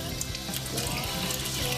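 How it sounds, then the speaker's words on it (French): Water runs steadily from a kitchen tap over a stainless steel sink while a lemon is rinsed, a close, continuous splashing hiss. "par réflexe, j'étais en train de rincer mon citron"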